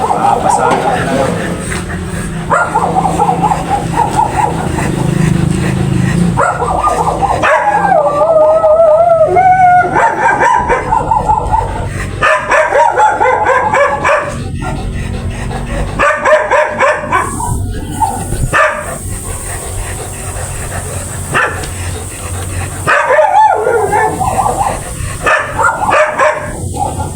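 A golden retriever barks, howls and yips repeatedly in close, loud bursts with whining tones between them, while people talk nearby.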